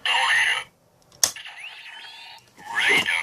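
Kamen Rider Fourze Driver toy belt activating its Astro Switch 1: a bright electronic burst, a sharp click, then a sustained synthetic tone with sweeping effects, ending in another loud electronic flourish; short and close.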